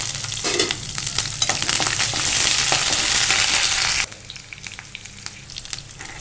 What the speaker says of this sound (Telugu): బాగా వేగనిచ్చి ఇందులోనే కరివేపాకు ఎర్రగడ్డలు వేసుకున్నాం